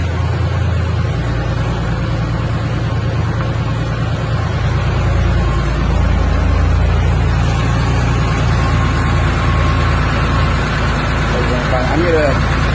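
A 1976 Porsche 911S engine idles and is given a little throttle, a steady low rumble that swells slightly midway, heard close and continuously with someone talking over it.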